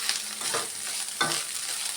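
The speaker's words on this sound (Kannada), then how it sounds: "ಇದನ್ನು ಚೆನ್ನಾಗಿ ಆಯಿಲಲ್ಲಿ ಒಂದು 10 ಸೆಕೆಂಡು ಫ್ರೈ ಮಾಡ್ಕೊಳ್ಳೋಣ." Coconut frying briefly in oil crackles with a steady, close sizzle, while a spoon scrapes through the pan in two distinct stirring strokes.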